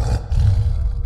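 A large tiger roars once from thick brush, a short, deep, rumbling growl heard up close and alone.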